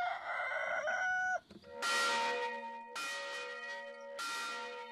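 A rooster crows once in a French village, then a church bell rings in three slow, resonant strokes that ring out and decay, heard alone without speech.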